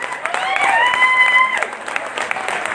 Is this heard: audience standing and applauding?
yes